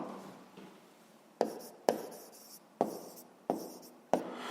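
Pen strokes on paper during a sixth-grade math exercise, with a soft scratch at first and then five sharp taps at uneven intervals, each trailing off into a short scribble. Close and quiet, with no talk.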